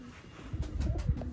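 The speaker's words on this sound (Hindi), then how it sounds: "नायाब दोस्तों कबूतर" A Koh-e-Noor breed pigeon gives a soft, low, brief coo close by, faint and alone against a quiet background.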